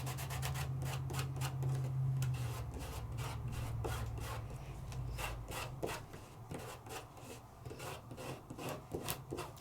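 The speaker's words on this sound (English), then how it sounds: "So I'm burnishing," Glitter burnished down onto sticky adhesive, a quick repeated dry rubbing and scratching close by, with a low hum underneath early on and soft tapping strokes later.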